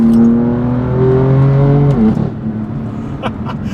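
A BMW M4 CS with a DCT gearbox pulls hard at full throttle, its engine note climbing loudly, then a sharp, abrupt upshift drops the pitch before it builds again, close and dominant with no talk.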